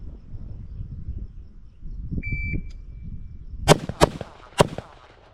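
Three sharp, loud gunshots from a PSA JAKL 8.5-inch 300 Blackout pistol, spaced under a second apart near the end, preceded by low rumbling handling noise and a brief electronic beep.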